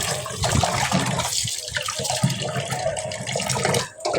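Water runs steadily over cut fish being washed in a kitchen, a continuous splashing, gurgling flow that stays close and loud throughout, dipping briefly near the end.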